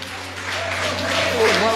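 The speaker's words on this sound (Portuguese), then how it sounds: "Vamos aplaudir ao Senhor." A church congregation applauds during a family service, the clapping swelling steadily from a soft patter into fuller applause while a voice speaks over it.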